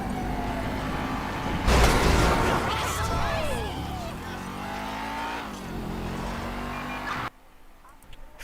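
Car driving in GTA 5 gameplay, an engine that revs and strains with whining tire squeals and shifting pitch, then drops away sharply, with background game noise.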